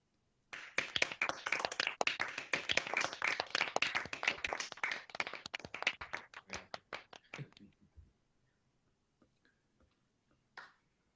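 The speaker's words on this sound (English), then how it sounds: "I now warmly welcome you to unmute yourselves and cheer and clap for each other." Graduates of an architecture school clap over a video call, dense overlapping applause for about seven seconds that thins into a few scattered claps and then quiet.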